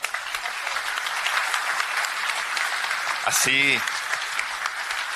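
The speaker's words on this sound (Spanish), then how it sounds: "Les quiero agradecer a ambos candidatos con un aplauso," Audience applause at a presidential candidates' debate forum in Chile rolls on steadily, broad and sustained, while someone speaks briefly over it midway.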